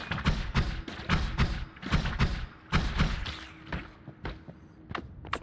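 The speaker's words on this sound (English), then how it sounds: "Glitter bomb." Glitter bombs detonating in the video game Noita, heard as a rapid series of punchy thumps and bursts, some clustered close together, fading into sparser hits toward the end.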